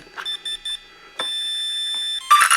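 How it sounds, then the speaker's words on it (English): Several short electronic beeps in a row from a brushless electronic speed controller, then a sustained steady tone, ending in a burst of noisy static; clear and close. "Now we go full throttle, press the button once, 2 beeps."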